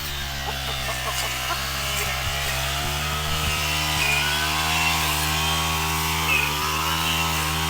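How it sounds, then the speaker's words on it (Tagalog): A gasoline grass cutter runs steadily while clearing tall grass on a small farm. Its buzzing engine drone is loud, close and continuous, with no talk. "busy sa pag-grass cutter"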